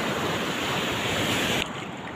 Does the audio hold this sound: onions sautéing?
no